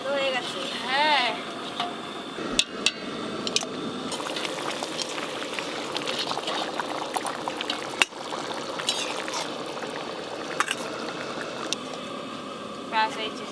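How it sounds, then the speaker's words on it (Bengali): Boiled mutton stock is strained, the liquid pouring and trickling with wet splashes and a few sharp clinks of utensils, close by under a murmur of talk. "মটনগুলো ছেঁকে নিলাম। এই যে রোগনটা আছে, এটা আমি ছেঁকে নেব।"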